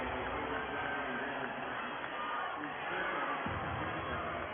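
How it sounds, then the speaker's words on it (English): Basketball arena crowd at a high school boys 3A state championship game, a dense, loud roar of many voices with oohs and aahs swelling steadily throughout. "You hear the ahs and the oohs from the crowd watching the replay"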